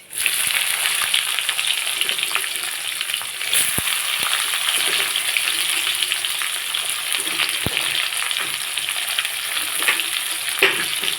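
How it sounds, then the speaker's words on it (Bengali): Whole cumin seeds and chopped onion frying in oil left over from frying fish, a loud, steady close-up sizzle with occasional stirring scrapes. "এখন মাছ ভাজা তেলের মধ্যে দিয়ে দেবো গোটা জিরে, দিয়ে দেবো কুচিয়ে রাখা পেঁয়াজ"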